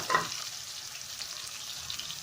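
Sliced onions go into hot cooking oil in a wok and sizzle as a soft, steady hiss, with a brief louder splash as they hit the oil at the start. The frying carries on evenly with no talk over it.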